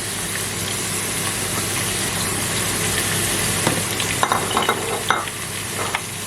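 Chicken pieces browning in a frying pan for a home-style poulet basquaise, a loud continuous sizzle with a few utensil scrapes and knocks toward the end.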